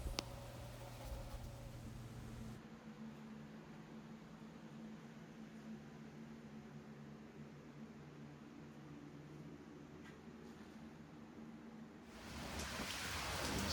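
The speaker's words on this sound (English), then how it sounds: "the rain's coming down a lot harder now, and a little bit of wind" Heavy hurricane rain falls with some wind, a steady wash of hiss and patter that runs the whole length, with low hums at the start and a louder burst of noise near the end.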